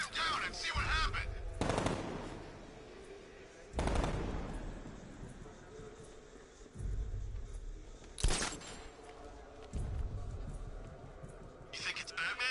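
Several short, separated bursts of automatic gunfire in Batman: Arkham Knight, each a sharp broadband crack followed by a decaying tail, with quieter game ambience between them.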